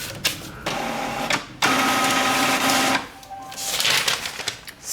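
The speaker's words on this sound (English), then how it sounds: "add some text, hit print, and off to 2D printing" A desktop printer runs off self-adhesive sticker labels, its motor whirring and feed mechanism clunking in bursts and pauses across several seconds, close and clear with no talking.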